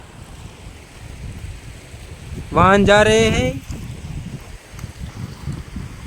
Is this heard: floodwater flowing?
yes